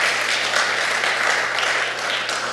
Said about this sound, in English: we can clap for that, amen